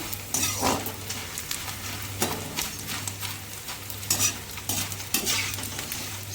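Edible gum (gond) frying in a pan for gond ladoos, a loud bubbling sizzle with repeated scraping stirs of a spoon against the pan, close and continuous, no talking.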